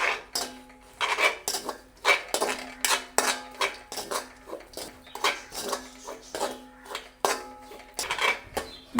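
Desiccated coconut being roasted in a pan for a Sri Lankan semolina laddu, with a metal spoon or spatula scraping and clattering against the pan in steady repeated strokes, close and alone without talk.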